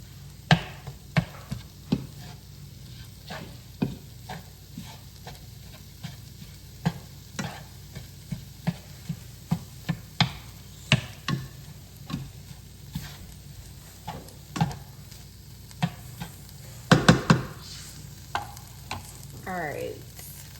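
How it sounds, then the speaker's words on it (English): Onions saute in a pan for a spaghetti dish, a low steady sizzle broken by frequent light scrapes and clicks of stirring, close and moderately quiet with no talking. "I'm just trying to get the onions to saute a little bit more"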